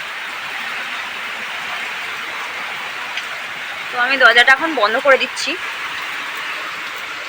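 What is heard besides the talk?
heavy rain falling outside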